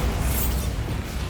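A Bombarda spell blast in Hogwarts Legacy lands as a short, loud, low rumbling burst that fills the brief moment with a dull explosive roar.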